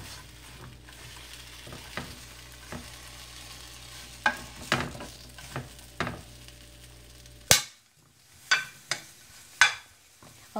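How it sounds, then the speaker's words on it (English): Fish peppers slow roasting with green onions and garlic leaves in a pan, a low steady sizzle broken by a series of sharp stirring knocks and scrapes, several close taps spaced a second or so apart. "you want to slow roast it until it's blackened a little bit"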